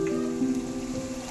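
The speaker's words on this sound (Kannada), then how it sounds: "ಈರುಳ್ಳಿ ಸ್ವಲ್ಪ ಫ್ರೈ ಆದಮೇಲೆ, ಇವಾಗ ನೋಡಿ ಸ್ವಲ್ಪ ಫ್ರೈ ಆಗ್ತಾ ಇದೆ" Onions frying with green chilli paste in a hot pan for Uttar Karnataka onion churumuri chooda, giving a steady close sizzle with a faint tonal hum running underneath.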